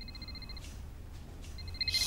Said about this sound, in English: That's just the normal ringing noise.